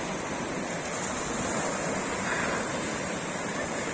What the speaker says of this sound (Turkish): hırçın dalgaları arasında